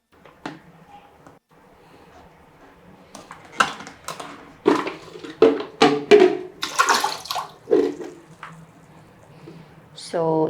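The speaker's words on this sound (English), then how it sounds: "So all you need to do is wash these 3 rollers at the sink" Water splashes and runs in a sink as three Roborock Dyad Pro vacuum rollers are rinsed, the splashing building into loud, uneven bursts after a quieter start.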